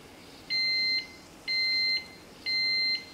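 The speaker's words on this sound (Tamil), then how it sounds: "பீப் சவுண்ட் 3 தடவை வந்தது இல்லையா, வந்து குக்கிங் முடிஞ்சிருச்சு" A kitchen cooker signals that millet kitchadi has finished cooking with three evenly spaced electronic beeps, each about half a second long, clear and fairly loud over quiet room hum.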